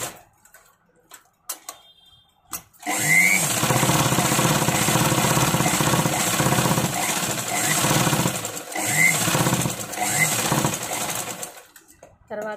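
A sewing machine stitching round a blouse neckline: a few light clicks, then a loud, steady, fast mechanical whirr with rapid ticking that runs for about nine seconds before stopping.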